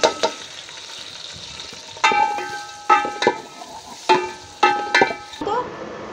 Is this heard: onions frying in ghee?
yes